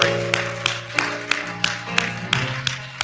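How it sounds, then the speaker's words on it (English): A church congregation claps in praise in a steady, even rhythm of about three claps per second. The claps ring out clearly over a sustained organ-like tone, with no talking. "let's just give him that last hand clap of"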